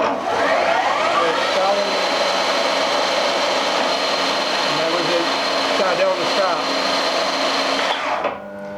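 Motor and gearbox on a machine tool controlled by a Heidenhain TNC155 with Izumi PLC whirring steadily while changing gear, the tone shifting and rising before dropping at the end, with someone talking over it.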